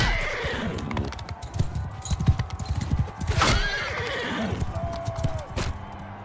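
Horse in the medieval combat game Mount & Blade II: Bannerlord, hooves clip-clopping in a quick galloping rhythm amid battle noise, with sharp neighs and whinnies breaking out several times, close and loud.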